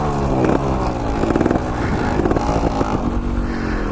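A trials motorcycle running on 50:1 premix two-stroke fuel, its engine loud and close with an uneven, burbling idle and short revving bursts throughout, no voices.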